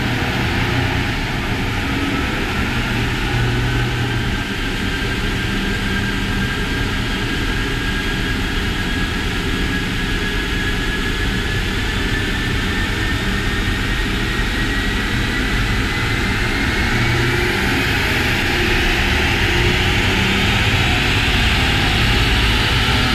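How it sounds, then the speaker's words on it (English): A 2020 Ford Explorer ST roars loud and steady on a dyno during a baseline pull, its engine pitch rising slowly over the run with heavy roller and fan noise, no talk. "we got our 2020 Explorer ST on the dyno. We made some baseline pulls with it."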